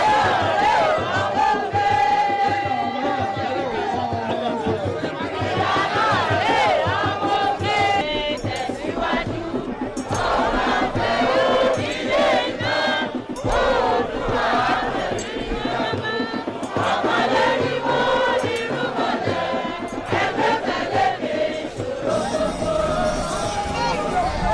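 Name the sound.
crowd of party supporters cheering, dancing and singing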